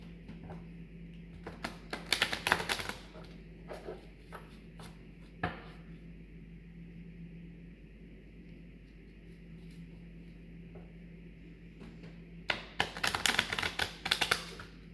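Two bursts of quick, crisp riffling cards, one early and one near the end, with soft taps and handling noise between them under a low steady hum.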